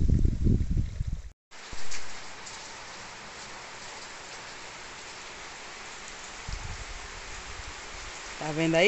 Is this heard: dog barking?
no